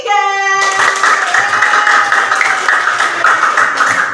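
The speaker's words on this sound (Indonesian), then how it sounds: "Tepuk tangan buat kelompok 3." Steady, dense clapping from a classroom full of children, continuous and fairly loud, with a brief tone at the start.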